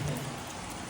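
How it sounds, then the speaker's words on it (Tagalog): Heavy rain during a motorcycle trip from Cavite to Sagada, a dense, steady roar of drops close by that fills the whole second without a break or any voice. "Ayan, taas ng ulan eh."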